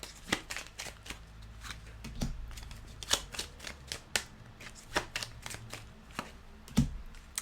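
Tarot cards being shuffled and laid out during a spiritual card reading, with a string of quick, crisp taps and flicks in irregular rhythm, close and fairly quiet, no talk.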